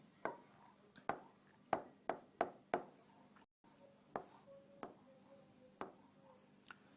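Pen writing on paper while working through a potential flow problem: a series of sharp, close scratchy strokes in short bursts, separated by brief pauses, with no talk over them.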